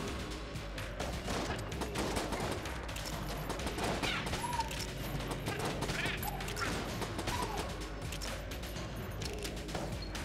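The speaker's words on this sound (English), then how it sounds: "I do like the rad gun" Rapid automatic fire from the rad gun in Enter the Gungeon, a dense, continuous clatter of shots with mechanical clicks and small impacts running loudly through the whole stretch, with no talk over it.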